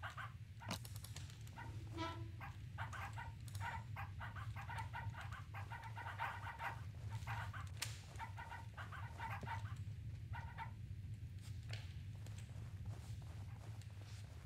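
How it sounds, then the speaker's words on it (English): Chickens cluck repeatedly in the horror video game Pacify, a steady run of short fowl calls over a constant low ambient drone. "I heard chickens."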